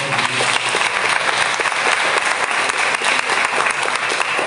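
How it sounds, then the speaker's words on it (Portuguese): A church congregation claps loudly and continuously in praise, a dense, even roar of many hands filling the sanctuary without a break. "Pode aplaudir a Jesus, pode aplaudir a Jesus."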